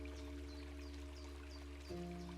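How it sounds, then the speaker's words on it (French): A babbling stream trickles softly and steadily in the distance, faint and continuous, with a low hum and a few high chirps over it. "te laissant envelopper par le bruit apaisant du ruisseau"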